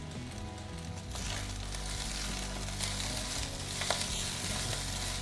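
Boiled chow mein stir-fried in a pan with chicken and vegetables, giving a steady, close sizzle with scraping and tossing noises throughout, no talking.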